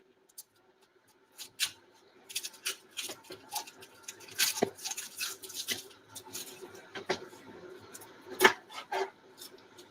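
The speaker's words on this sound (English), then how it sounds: "Let's cut up this onion." An onion chopped roughly with a knife on a small cutting board, a run of close, uneven taps and crisp cuts that come faster and denser in the middle, one harder chop near the end.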